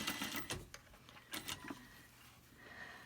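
A sewing machine stitches a fabric face mask with a nose wire, whirring in short, faint bursts of rapid needle chatter with brief pauses between them.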